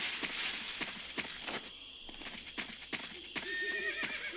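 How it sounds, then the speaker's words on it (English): A horse in Metal Gear Solid 3 whinnies near the end over steady clip-clopping hooves and crisp footstep thuds, fairly close and without talk. "There's a horse."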